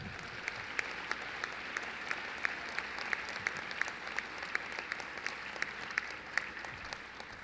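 Sustained applause from the class of 2017 at the Ann Arbor Pioneer High School commencement, steady dense clapping from a large crowd with no talk over it.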